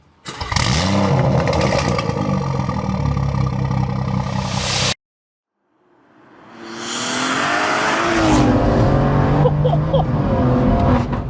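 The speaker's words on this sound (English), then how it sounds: "we'll hop on in, fire it up, and go for a spin" A tuned 800 BHP BMW M240i roars hard close up, cuts out abruptly, then restarts and climbs through a long full-throttle pull with rising engine pitch heard from inside the car.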